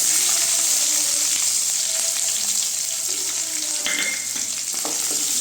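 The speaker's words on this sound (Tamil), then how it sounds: "வெங்காயம் நல்லா வதங்கட்டுங்க" Onions sautéing in a pan with dried chilies and curry leaves give a steady close sizzle, a constant bright hiss with light scraping and stirring noises near the end, no voices.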